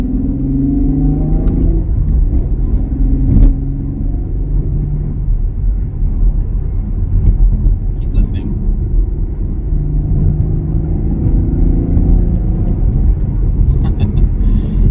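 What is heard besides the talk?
sports car engine growl while accelerating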